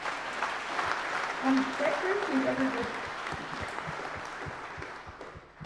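Applause from the audience at the 2021 Te Putahitanga symposium rises under a speaker's voice, the clapping brief and fading toward the end.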